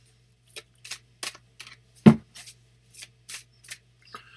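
Tarot cards are shuffled in a series of short, crisp riffles and flicks, about a dozen quick bursts close by, with one louder slap near the middle and no voices.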